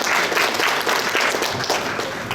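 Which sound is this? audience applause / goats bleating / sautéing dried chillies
audience applause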